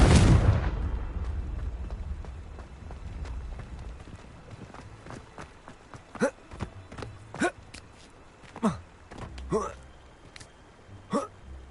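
Spells and explosions in the video game Hogwarts Legacy: a steady low rumble, then a run of sharp, punchy magical bursts and blasts in the second half, several in quick succession.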